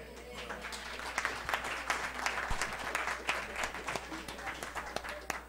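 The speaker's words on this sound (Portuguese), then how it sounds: "esses aplausos vão também para o colega Roberto Pi" Applause at a plenary council meeting of architects, steady dense clapping from a seated audience heard from a distance, fairly quiet, with a low hum underneath.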